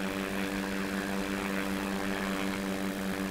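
A light propeller plane climbs under power, its engine and airscrew giving a loud, steady, close-up buzzing drone from inside the aircraft, with no pauses and no talking.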